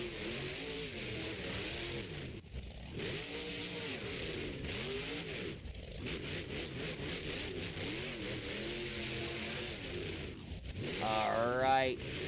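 A monster truck engine revs hard and roars in a stadium during an encore run at a Monster Jam Stadium Series show in Houston, with loud sustained throttle swells and bursts and a crowd and announcer heard underneath.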